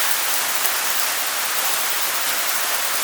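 Volcanic stones and ash fall from the sky during an eruption in Tonga, a dense, continuous hiss like heavy rain pattering on surfaces, loud and uniform with no voices.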